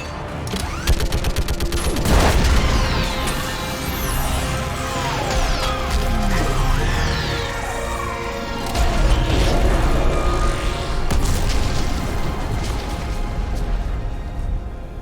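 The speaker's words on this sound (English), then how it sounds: "I need an orbital strike." Orbital strike in the Mass Effect video game during a fight against a live Reaper, loud dense booming blasts and crackling gunfire-like bursts continuing throughout, heavy and close with no clear speech.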